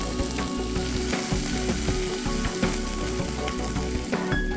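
Onions and whole chillies fry for an Andhra-style chicken curry (kodi kura), giving a constant close sizzle punctuated by regular knocks and scrapes of a stirring spoon.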